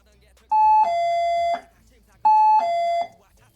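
Two-tone electronic door chime sounding twice, a higher note dropping to a lower sustained one, clear and close against a quiet room, marking quarantine meal delivery.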